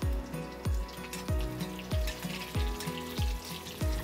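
Curry leaves spit and crackle in hot oil with roasted cumin in a tempering pan, a soft sizzle broken by regular, evenly spaced thuds of stirring or tapping, fairly quiet and close with no talking.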